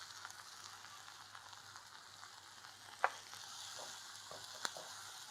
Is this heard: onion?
yes